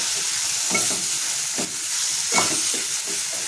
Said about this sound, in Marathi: हे सर्व मसाले आपल्याला एकत्र मिक्स करून घ्यायचे